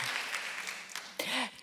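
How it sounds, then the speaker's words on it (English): An audience applauds at a talk, a brief burst of dense clapping at moderate volume that swells near the end, with no voices over it. "That's people applauding you, Isabel."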